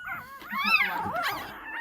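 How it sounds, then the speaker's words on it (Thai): Labrador dog giving a short run of whiny, yipping vocalizations close by, pitched cries rising and falling over about two seconds, no speech. "มีขู่มีเห่าด้วย"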